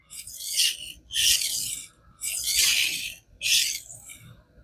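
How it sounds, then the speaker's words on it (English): A knife blade drawn across a 300 grit King whetstone with very light pressure, four rhythmic rasping strokes, each about a second long, with short pauses between them, close and clear. "I'm going to work it on this 300 a couple times. Using very light pressure."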